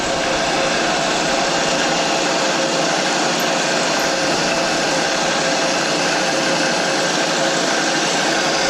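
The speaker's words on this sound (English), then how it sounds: "We're gonna drill with our number 7. So that's our tap drill." A vertical milling machine drills a number 7 tap drill hole for a 1/4-20 tap, giving a loud, steady, unbroken mechanical whir and whine that runs through the whole stretch.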